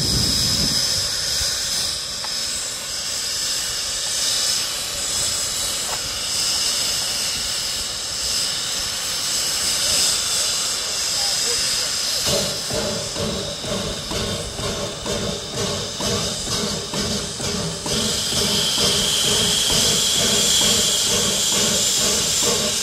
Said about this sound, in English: This is an example of a logging locomotive.